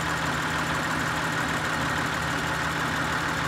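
An Acura TL engine idles with random multiple cylinder misfires on bank 2, a steady low mechanical drone with faint uneven pulsing, heard up close and moderately quiet, with no talking.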